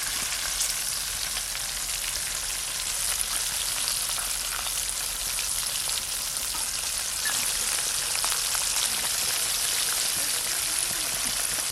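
Oil bubbling and crackling steadily in a pan while pieces of KFC-style chicken fry, a dense continuous sizzle heard up close with no talk.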